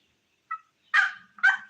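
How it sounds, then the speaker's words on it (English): A wild turkey gobbles back twice in quick succession, loud and close, preceded by a brief faint chirp-like note, with quiet in between. "Did you hear him? He gobbled back."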